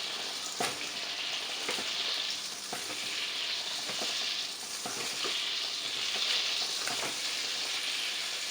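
Chicken pieces fry in hot oil for caramelized pineapple chicken, a loud, steady sizzle that continues throughout, with faint spatters and occasional stirring taps and no talking.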